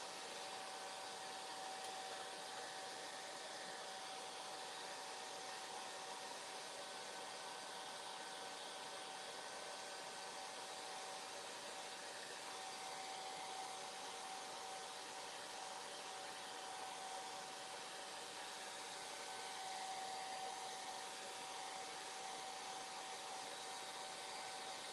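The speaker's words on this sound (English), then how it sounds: "let's go ahead and blow dry one last time" A hair dryer blows steadily and close, drying paint on a handmade rock-and-roll gnome craft door hanger, a constant airy whir with a faint tonal whine running throughout, no talking.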